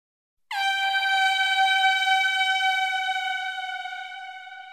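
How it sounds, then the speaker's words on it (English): A single loud, sustained air horn blast sounds alone, starting abruptly and holding a steady harmonic tone for over four seconds before slowly fading slightly. "On the count of three, we pull the air horn."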